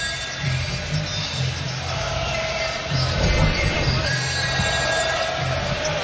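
Basketball fans at Barclays Center during a Brooklyn Nets game against the Portland Trail Blazers give a steady, broad wash of crowd applause and arena noise, with a commentator talking over it.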